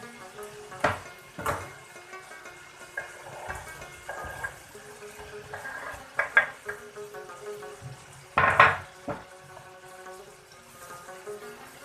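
Green chillies and salt fry and are stirred into a chicken karahi, with a steady low sizzle and intermittent louder stirring clatters and scrapes of the pan.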